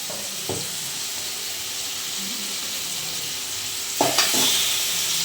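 Crab frying in a pan with sautéed tomato, giving a loud steady sizzle and hiss throughout, with a couple of stirring clatters near the start and end.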